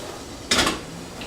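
Chopped greens dropped into a steamer pot over boiling water make a brief clattering rustle of leaves against metal, one short burst that quickly fades.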